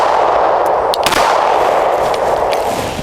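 Two rifle shots fired at a target with a Lead & Steel PB-3 mount, heard as loud reports over a constant roar of outdoor noise, one sharp crack standing out near the middle.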